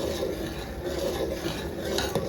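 A spoon scraping and stirring cream in a pot over high heat while ghee is made, a continuous rasping swirl with a faint sizzle underneath and a sharper clink near the end, close and steady.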